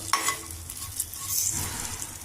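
Ivy gourd pieces frying in a pan for a function-style dondakaya fry are stirred, a steady sizzle with scraping stir strokes throughout, close and moderately loud, no talk.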